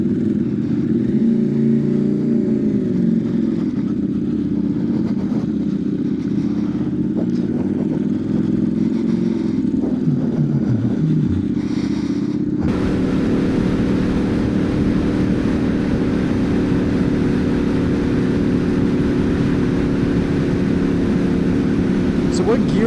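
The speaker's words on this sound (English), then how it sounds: "My bike doesn't have gears." A motorcycle with a gearless CVT transmission rides into town, giving a steady droning engine note with wind rush throughout and a shift in tone partway through. Riders talk over it.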